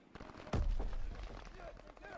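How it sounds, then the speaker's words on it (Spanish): Gunfire in the World War II shooter Call of Duty: WWII, a sharp loud blast followed by a booming tail and scattered further shots, with a voice speaking over the battle. "Se oyen disparos."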